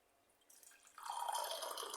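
A glass of water tipped into a cooking pot for a Haitian dish of sweet potato and milk, a faint trickle that swells into a steady, close pouring splash after about a second.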